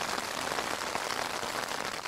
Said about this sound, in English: maybe take some footage, but the rain beat me to it